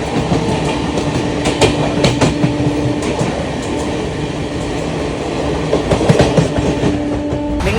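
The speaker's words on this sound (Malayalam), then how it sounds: "ഇപ്പോഴും നല്ല സ്പീഡാണ് നമ്മുടെ വണ്ടി പോയിക്കൊണ്ടിരിക്കുന്നത്" Thiruvananthapuram Rajdhani Express running at speed, a steady loud rumble of rolling wagons with rhythmic clickety-clack of wheels over rail joints and occasional squealing tones, no voices.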